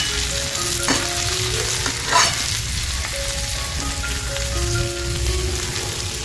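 Green chillies stuffed with egg fry in a pan with a steady, close crackling sizzle throughout, broken by a few louder spits and pops; no one speaks.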